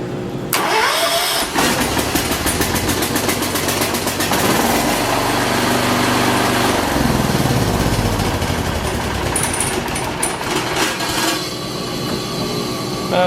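John Deere 214 lawn tractor with a newly replaced solenoid, its engine cranking and catching, then running loud and steady close by with a rough mechanical clatter for over ten seconds.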